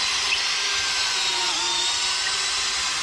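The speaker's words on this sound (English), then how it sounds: "drill the pole" A power drill fitted with an auger bit bores into a wooden pole outdoors on a South Australian Riverland work trip, a loud, continuous high whine held steadily at close range without voices.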